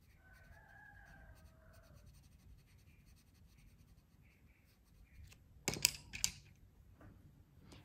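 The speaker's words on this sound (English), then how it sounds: "There's a pair of birds now out there." Distant birds call in a few short, melodic bursts early on over quiet outdoor ambience, followed by a couple of sharp, louder knocks or scrapes near the end.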